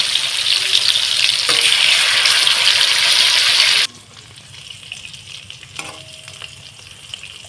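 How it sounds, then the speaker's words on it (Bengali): Marinated chicken pieces fry in a pan with a loud, steady hiss of sizzling oil that abruptly drops to a quieter, gentle crackle partway through. "চিকেনগুলো আমার সব ভাজা হয়ে গিয়েছে"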